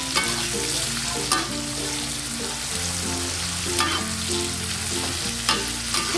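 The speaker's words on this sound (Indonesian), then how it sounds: "cabenya digoreng seperti ini dulu enak hasil sambalnya" Chillies frying and being stirred in a pan for Padang-style sambal, a dense continuous sizzle with regular scraping stirs, under a steady tonal background hum and no speech.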